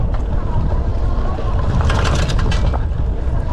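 A Lectric XP 3.0 e-bike rattles over a bumpy road: a steady rumble of riding noise with loose clatter that grows busier in the middle, close and fairly loud.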